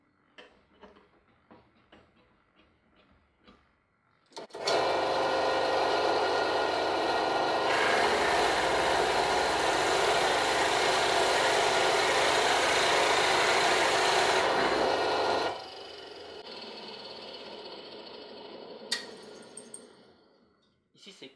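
A Chester pillar drill presses through a workpiece clamped with aluminium Festool-type clamp fittings. The loud, steady grinding and whirring lasts about eleven seconds, with quieter work noises and brief talk before and after.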